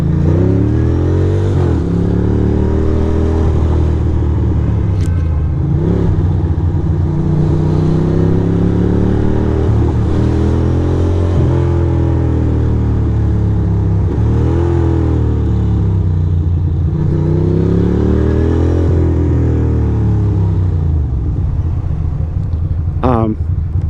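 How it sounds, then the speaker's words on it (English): A misfiring motorcycle engine drones and surges unevenly throughout a ride on an early-morning Brooklyn commute, loud and close, with a rider talking over it at times. "the bike I think is misfiring or something"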